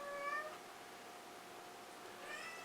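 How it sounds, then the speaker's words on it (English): A house cat yowls in two drawn-out, wavering meows, one at the start and another near the end, with quiet room tone between them. "This is Bruno, who has been yowling at me for the last 4 takes trying to get this video started."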